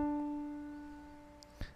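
A single piano D key struck and left to ring, the note sustaining with steady overtones and slowly fading, alone and close, on a beginner's piano.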